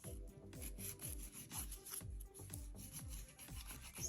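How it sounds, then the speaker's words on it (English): A nail file rasps back and forth across a fingernail in quick, steady rubbing strokes, close and fairly loud, with no talking. "I'm gonna do the filing on my other nail."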